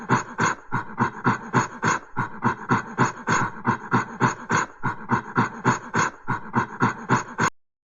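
Apes gibber in a loud, rapid, panting chatter, a steady run of rhythmic breathy bursts heard alone for several seconds.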